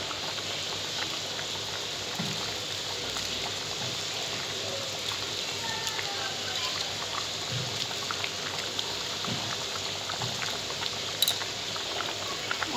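A pot of jackfruit curry with shrimp bubbles steadily, a soft continuous burble with faint pops throughout, close and unaccompanied by talk.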